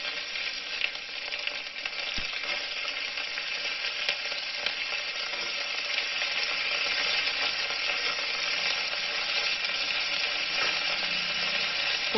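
Chunks of elephant foot yam sauté in hot oil in a pan, giving a continuous, even sizzle with faint scraping of stirring throughout, close and with no talking.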